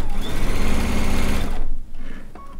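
A sewing machine stitches quilt seams during strip piecing, one loud, rapid, steady run for about a second and a half before stopping, followed by faint small clicks.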